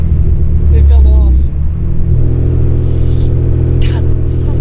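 A Honda Accord with no exhaust roars loud and raw, revving up, then settling into a harsh, throbbing idle up close while people talk over it.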